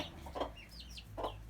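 A hen sitting on eggs clucks softly a few times in quick, short bursts, quiet and close, with no other sounds around.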